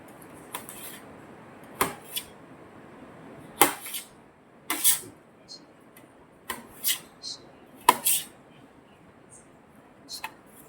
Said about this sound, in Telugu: మనం ఇలాగా ముక్కలు ముక్కలుగా కోసుకోవాలి.